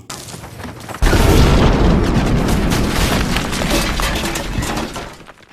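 A sudden loud explosive boom of a bomb going off in a tram, with shattering debris, followed by a sustained roar of crashing and breaking that slowly fades.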